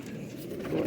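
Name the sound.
pigeon cooing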